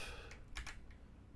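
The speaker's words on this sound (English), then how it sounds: "Keyboard shortcut for that. Alt F." Keys pressed on a computer keyboard for the Alt F shortcut, a few quick close clicks over a faint steady background hum, no talking.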